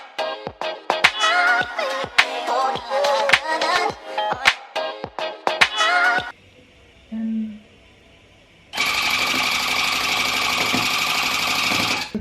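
A rug tufting gun stitches yarn through backing cloth in a first attempt, running in short rapid buzzing bursts separated by pauses, followed by a quiet stretch and then a steady continuous whir near the end.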